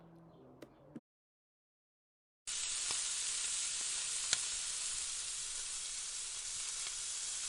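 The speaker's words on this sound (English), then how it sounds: "Oil the skillet and cook the naan for 1 minute until it puffs up." Naan fries in an oiled skillet over moderately high heat, giving a steady bright sizzle that starts abruptly after a brief silence and carries on evenly, close and fairly loud, with a few faint taps.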